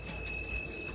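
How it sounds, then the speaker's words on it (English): A Q subway train approaches a New York City station: a steady, low rumble with a thin, high whine running through it. It lasts only a moment and no one speaks. "That's the sound of a train coming"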